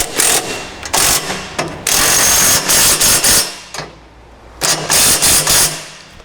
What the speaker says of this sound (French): on va serrer le collier d'échappement